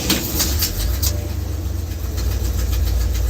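A truck engine with an exhaust leak from a cracked exhaust manifold stud runs at a steady, loud, rumbling idle close by, with a faint ticking pulse on top and no talk.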